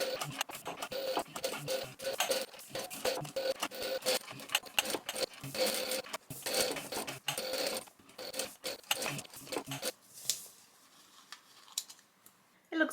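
A hand-cranked sewing machine stitches small fabric scraps around tight curves for a butterfly charm, giving a close, busy run of rapid mechanical clicks and needle thumps in short bursts with brief pauses, then thinning out near the end.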